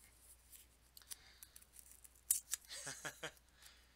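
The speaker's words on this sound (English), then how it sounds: "Is that too loud when the sounds of the coins hit each other?" Pennies from a box clinking together during coin roll hunting, a quiet scatter of light ticks building into a brief cluster of bright metallic clinks, close and without talk.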